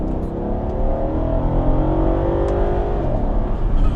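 A Mercedes SL63 AMG accelerates hard, its engine building from a deep, loud growl into a rising roar that surges steadily without a break.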